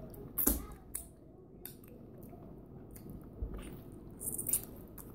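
Chicken bone and cartilage being chewed up close, with wet, squishy bites and a couple of sharper crunches near the start and end over a low, steady background.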